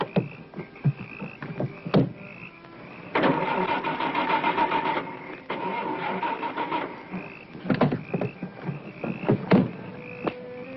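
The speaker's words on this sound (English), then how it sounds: "But my car won't start" A car engine cranks repeatedly without catching, in bursts of whirring starter effort with short pauses between attempts, close and fairly loud.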